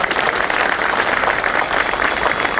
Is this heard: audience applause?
yes